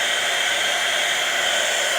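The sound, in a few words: hairdryer blowing during makeup ageing demo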